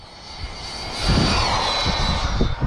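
An Arrma Infraction 4x4 1/8-scale RC car with a 3S brushless system at full throttle, a high-pitched motor whine rising and holding loud, with rough rumbling and tire noise underneath.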